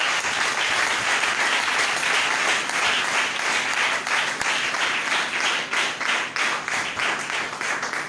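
A church congregation at a seminary service applauds in praise, a dense, steady wash of clapping filling the space loudly from start to finish with no pause.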